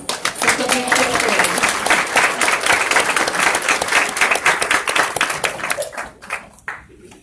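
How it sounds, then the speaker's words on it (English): A school audience applauds fifth grade singers at an evening district meeting, with dense, steady clapping that holds loud for about six seconds, then thins out and fades. "let's give them a round of applause"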